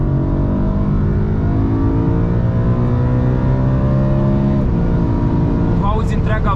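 A loud V8 motorsport engine in a BMW 3 Series, revving to about 8250 rpm, revs hard and holds a high, steady roar, its pitch climbing, then briefly drops and surges again near the end.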